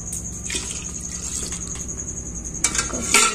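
Milk poured into a pot of water to make tea, heard as a short liquid splash and trickle over steady kitchen background hum, with a few louder metallic clinks near the end.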